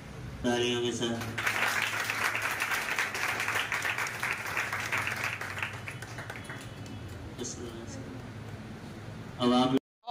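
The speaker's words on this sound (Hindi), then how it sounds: "तालियों के साथ" A crowd of students and guests at a Nalanda Institute event in Mahoba applauds steadily for several seconds, with broad continuous clapping that thins out near the end.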